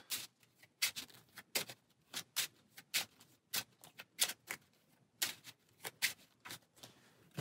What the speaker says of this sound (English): Shuffle those back in.